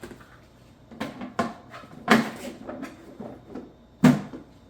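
A plastic lid on a GreenStalk vertical planter is opened and closed, heard as several close, sharp clacks and knocks, the loudest two clearly spaced near the middle and end.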